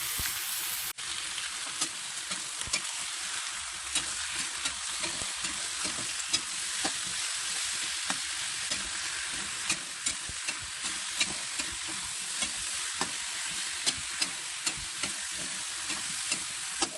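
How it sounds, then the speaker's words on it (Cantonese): Pieces of chicken sizzle steadily in a hot wok, a constant crackling hiss punctuated by occasional sharp clinks of a spatula against metal. "啲雞擺落去先煎一煎。"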